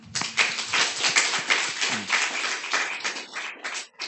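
Clapping in a church during a Sunday evening service, a close, crisp run of rhythmic hand claps from a small group, steady and fairly loud for about four seconds.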